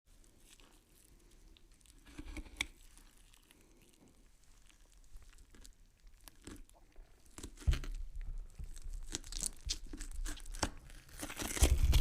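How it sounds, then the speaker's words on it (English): Sticky tape being cut and torn away from a wooden cabinet: quiet scratching and crinkling at first, then louder ripping and tearing toward the end, close up with no talking. "So we're just going to cut that sticky tape."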